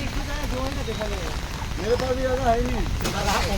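Steady rain patters on surfaces all around while people talk nearby.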